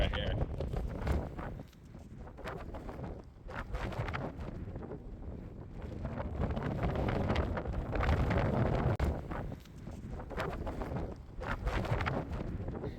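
Strong wind buffets the microphone continuously on a Santorini caldera viewpoint, a heavy roaring rush with gusty swells throughout.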